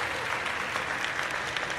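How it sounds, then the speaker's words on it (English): Steady audience applause during a live show, a continuous dense patter of many hands clapping at even loudness for the whole stretch, with no voices over it. "round of applause for that"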